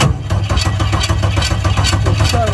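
A high-compression Turbo Barra inline-six boat motor with a wobbling, off-centre flywheel cranks over steadily and loudly, a continuous rhythmic churning without catching, close by.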